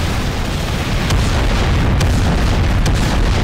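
Loud, dense rumbling blasts with a few sharp bursts of gunfire cutting through, continuous and close, no voices, from a gun fired in Garry's Mod.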